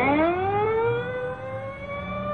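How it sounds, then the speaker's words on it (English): An ambulance siren wails in a steady rising sweep on a busy street crowded with cars, loud and continuous as the vehicle pulls away, with a low traffic rumble beneath. "The ambulance is pulling away."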